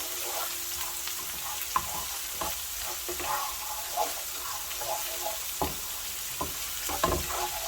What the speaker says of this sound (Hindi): ये भी हरी मिर्चें भी इसके साथ हल्का सा ये फ्राई हो गई हैं